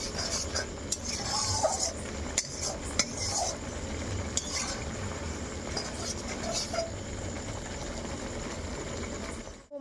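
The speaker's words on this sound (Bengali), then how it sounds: "মশলাটা তেল না ছাড়া অবধি এখন কষাতে হবে।" Spice paste for chicken curry is stirred and fried in oil in a pan, a metal spoon scraping and clinking against the pan in irregular taps over a steady low sizzle.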